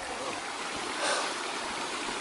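Water runs steadily through a collapsed old mine tunnel, a continuous broad rushing hiss with a slight swell midway, close and unbroken by speech.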